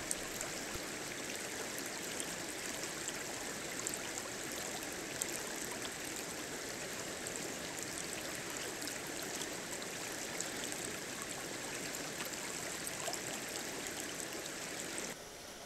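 A stream on Vancouver Island during the salmon run flows steadily nearby, a continuous bright rushing and trickling of water with no other sounds.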